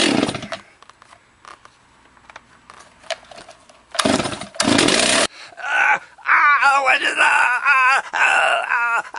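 Small chainsaw idling and revving to burn old reformulated gas out of its carburetor, with sputtering bursts and wavering engine whine under intermittent groaning and talk.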